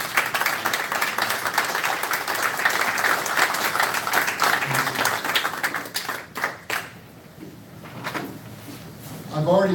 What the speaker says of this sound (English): Would you honor them with your applause,